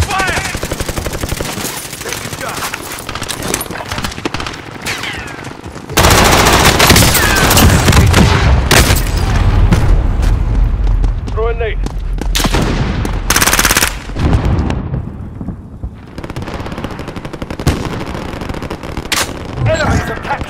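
Heavy automatic gunfire from a Call of Duty Warzone match, loud bursts and rapid rattling volleys with booming impacts, intensifying midway and continuing in sporadic shots, mixed with game voice callouts.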